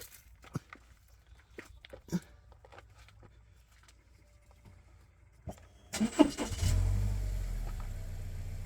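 Engine of a 2020 Subaru Outback cranks and catches after a few scattered clicks and clunks, then settles into a steady close idle during a brake fluid flush in a garage.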